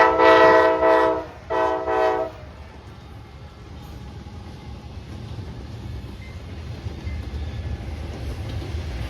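CSX daily intermodal freight train passing, opening with two loud blasts of the horn followed by the steady rumble and rolling of the cars going by at close range.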